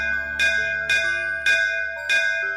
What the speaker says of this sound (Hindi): उसने जोर से घंटा बजा दिया।